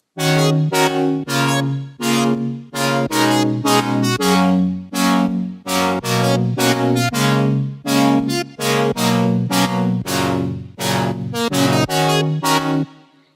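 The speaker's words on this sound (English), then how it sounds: "The next main sound is actually this serum right here" A soloed Serum synthesizer patch in a drop plays a steady rhythm of short, punchy plucked notes, loud and alone without any voices.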